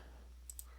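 Two quick, sharp computer mouse clicks close together, faint and isolated against a quiet background hum.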